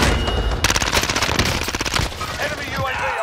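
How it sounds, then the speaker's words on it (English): Rapid automatic gunfire bursts in a Call of Duty: Modern Warfare match, loud and dense with overlapping shots, tapering off toward the end. "I'm taking fire."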